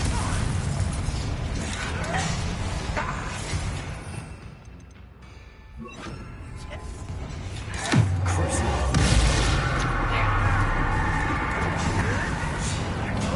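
Confringo blasting curse from Hogwarts Legacy bursting with a sharp boom near the middle, followed by crackling debris and mechanical clatter over a busy game soundtrack, with a voice talking over parts of it.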